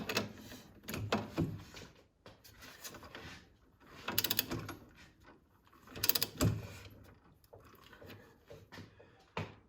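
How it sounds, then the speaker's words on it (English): Torque wrench tightening bolts on the new rear springs of a 1981 Pontiac Firebird Trans Am, giving a few separate ratcheting clicks and clacks with quiet pauses between them. "torque wrench is now set at 60"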